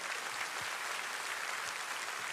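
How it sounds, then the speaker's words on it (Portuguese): A church congregation applauds in an energetic worship service, dense continuous clapping throughout, steady and fairly loud, with no voices standing out. "Pode aplaudir, o povo está animado hoje."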